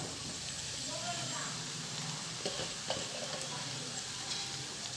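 Vegetable semiya being stirred in a pan, with a steady broadband scraping and sizzling texture throughout and a few sharper knocks near the end.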